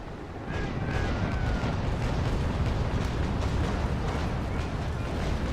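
Cannon broadside from a frigate in the Naval Action Legends naval combat game: after a quiet half second a sustained roar of overlapping booms erupts and rumbles on steadily, dense and moderately loud without distinct gaps.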